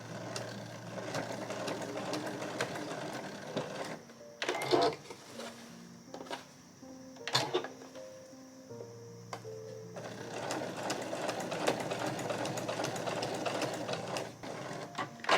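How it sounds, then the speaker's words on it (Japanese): A sewing machine stitching along the edge of a fabric pouch, with a continuous close mechanical hum and rapid needle clatter, broken by a few clicks and brief pauses midway before running steadily again. "でこれも最初の、入れ口を縫った時と同じ際のところステッチ重ねていきます。"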